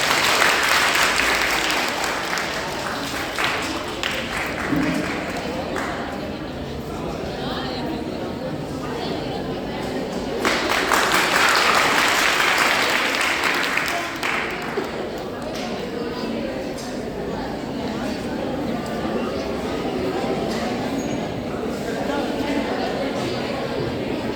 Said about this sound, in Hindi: जोरदार तालियां बजाकर